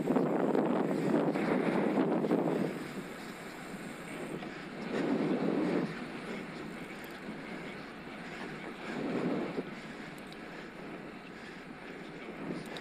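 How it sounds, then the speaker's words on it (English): Wind gusting against a microphone during an electric road-bike ride near Sutton Common on a Scott Addict RC, loud rumbling buffets swelling at about 0, 5 and 9 seconds with steady low roar between, no talk. "It's a bit breezy today"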